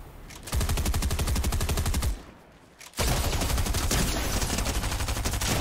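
Rapid SMG gunfire in the video game Fortnite, long continuous bursts of close shots with a brief pause before firing resumes, loud and steady.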